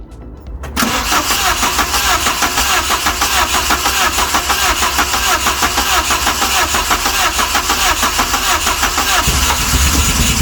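A Westfield SEiW kit car engine, recently fitted with a new cambelt, cranks briefly, then fires and settles into a loud, steady, lumpy idle close by, running with choke applied.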